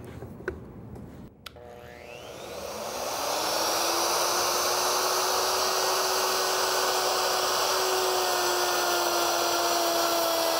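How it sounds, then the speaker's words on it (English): Wood router cutting a rabbet in wood: a few clicks and a sharp start, then a motor spinning up into a loud, steady, high-pitched whine with a constant hum that holds for several seconds, close by. "And I'm ready to route this rabbet."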